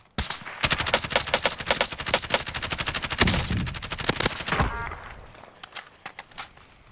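Rapid automatic gunfire in Call of Duty: Warzone, loud sustained bursts of closely spaced shots for several seconds, then tapering to a few scattered single shots and quieter thuds.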